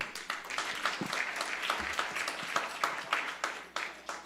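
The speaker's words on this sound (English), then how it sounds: "let's give a big round of applause for our pujaris and the devotees who have dressed the Lord so beautifully" Lively clapping from a temple Sunday feast crowd, honoring the pujaris and devotees, with distinct individual claps standing out over a steady bed of applause at moderate loudness.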